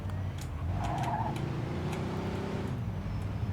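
A half-estate, half-limousine car drives in Mafia 2, its engine a steady low rumble with a brief tire squeal early on, heard close and alone.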